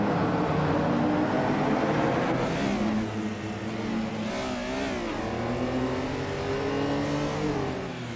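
Several race car engines in a video game race, one a 1996 Dodge Stealth RT Turbo, drone and rev continuously at close range, pitch sweeping up and down as cars battle side by side.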